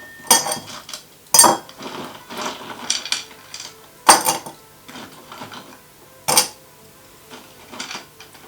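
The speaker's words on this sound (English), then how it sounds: "I'm also going to pop some ice in the glass." Ice cubes drop into a drinking glass with a series of bright clinks and rattles, close up, arriving in irregular bursts spread over several seconds.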